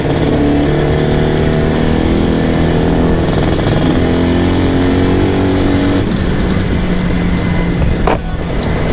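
An IZh Jupiter 400cc twin-carburetor motorcycle on the move, its engine droning loud and close with pitch rising and falling as it accelerates, with no speech.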